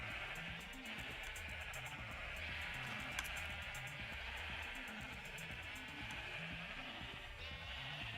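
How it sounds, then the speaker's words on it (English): Sheep bleat in Minecraft, several soft, wavering calls repeating over a steady background of game ambience, moderately loud and with no talking. "The glorious sounds of sheep."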